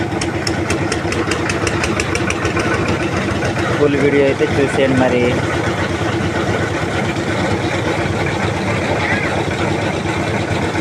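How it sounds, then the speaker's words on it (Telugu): A concrete mixer engine runs loudly at a building site where a slab is being finished, a steady, continuous drone with a knocking edge, while someone talks over it. "ఇప్పుడు మిల్లర్ని అడుగుతారు కావచ్చు మళ్ళీ స్టార్ట్ చేస్తున్నారు చూడండి"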